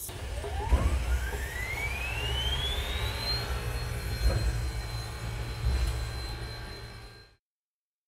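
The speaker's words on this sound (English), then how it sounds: "the last thing that we have to do is start the steam-driven turbo generator for the electrical on the locomotive" A steam locomotive's steam-driven turbo generator spins up, its whine rising steadily in pitch over a few seconds and then holding a constant high tone over a low rumble of the engine before cutting off.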